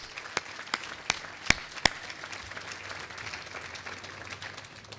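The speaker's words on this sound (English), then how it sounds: "So I want to applaud our city staff again." Scattered claps from the audience at a city State of the City address honoring city staff: about five sharp, separate hand claps in the opening seconds, then only quiet room tone.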